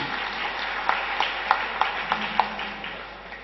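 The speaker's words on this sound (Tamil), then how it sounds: "பலத்த கரகோஷம் கொடுக்கலாம்" Applause rises from the crowd at a ninth-anniversary KP astrology function: moderate, somewhat distant clapping with a few sharper slaps standing out, fading slightly toward the end.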